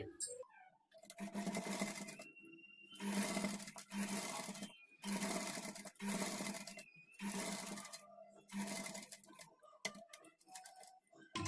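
Domestic sewing machine running a top stitch beside thread piping on a blouse neckline, several steady bursts of fast mechanical whirring separated by short pauses, close and clear with no talk.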